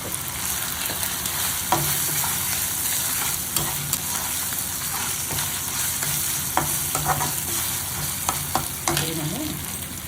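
Ingredients sizzle and fry in a pan for a Telugu tomato dal and tomato-potato fry, with steady crackling and repeated scrapes and clacks of stirring throughout, no voices.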